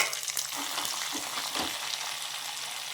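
Garlic and curry leaves sizzle in hot oil for a yogurt rice tempering, a dense, close crackling hiss with small pops and stirring scrapes throughout.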